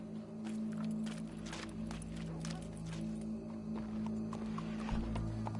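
In the Red Dead Redemption 2 video game, a horse's hooves clip-clop at a walking pace under a steady ambient drone, with a whinny near the start and a low rumble near the end.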